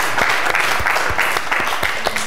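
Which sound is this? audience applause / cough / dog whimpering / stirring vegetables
audience applause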